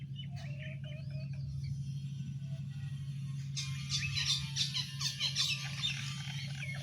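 An unidentified bird, larger than a sparrow, gives a quick run of chirps and squawks in the second half, over a steady low hum.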